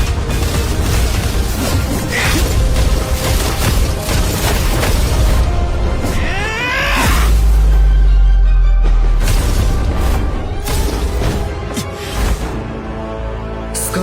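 A fire bomb goes off in an animated fantasy battle series, a dense roaring blast with a deep low boom swelling near the middle, over busy dramatic effects and no talk.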